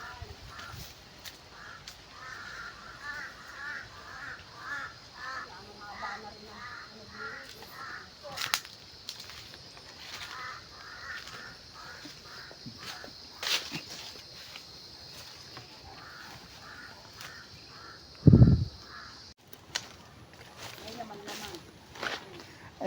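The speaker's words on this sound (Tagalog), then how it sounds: "Inuubos naman na yan ng ibon, ng mga wak." Crows caw repeatedly in a rural cornfield, a series of harsh rhythmic calls at middle distance over outdoor ambience, with a sharp thump near the end and someone talking over parts of it.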